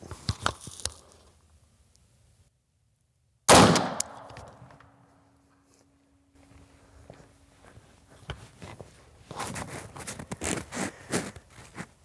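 A single sharp gunshot fired at a 3D rubber dummy target outdoors, loud and abrupt with a brief ringing decay, preceded and followed by quiet handling and rustling noises.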